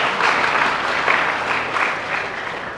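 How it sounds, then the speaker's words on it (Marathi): Steady, full applause from a hall audience at a felicitation ceremony, welcoming the top-ranking Class 12 arts, commerce and science students. The clapping is close and continuous and lasts the whole stretch with no speech over it. "सगळ्यांनी टाळ्या वाजवून अभिनंदन करावं"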